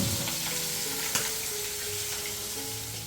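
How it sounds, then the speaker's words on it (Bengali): Fish frying in a wok, a continuous close sizzle with a faint clink or two of stirring partway through. "আমি কড়াইয়ে মাছগুলো ভেজে দিলাম"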